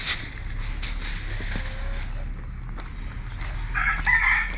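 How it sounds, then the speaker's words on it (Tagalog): Chickens cluck and a rooster crows in an open backyard in the Philippines, with steady low background rumble and scattered bird calls. "May manok din kami."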